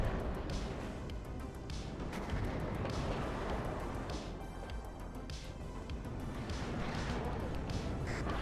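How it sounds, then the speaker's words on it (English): Artillery fire in the real-time strategy game WARNO: a steady barrage of booming impacts and gunfire crackles in a dense, continuous battle din, with rhythmic heavy thumps recurring every second or so. "Good, artillery doing a good job here, doing some damage."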